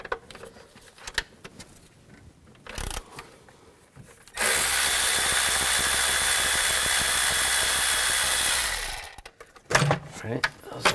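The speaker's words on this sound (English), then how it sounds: "Now we're gonna take these bolts out. Just use an 8mm socket." A tool runs steadily for about five seconds, loosening the 8mm throttle body plenum bolts on a 2013-19 Ford Police Interceptor Utility. Quieter handling noises come before and after it.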